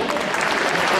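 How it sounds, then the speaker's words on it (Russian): Loud, dense audience applause at a youth achievement awards ceremony for culture and the arts, a brief close burst of many clapping hands filling the whole moment. "Примите эти громкие аплодисменты"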